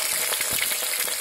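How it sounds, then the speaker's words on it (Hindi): Green chilies frying with cumin in hot oil in a pan for anda bhurji, a dense, even sizzle and crackle, close and continuous over a brief moment. "अब हम इसके अंदर हरी मिर्च डालेंगे"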